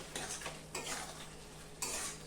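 Mutton being stirred and fried with turmeric and Kashmiri chilli powder in a pan, a steady sizzle under scraping strokes that come in a few bursts, close and fairly quiet.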